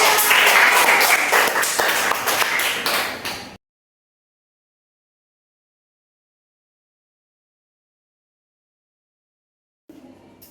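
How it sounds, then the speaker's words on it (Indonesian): A classroom of elementary school students applauds a classmate during a science lesson, with loud, dense clapping for about three and a half seconds before it cuts to silence and a brief faint noise near the end. "tepuk tangan untuk temannya."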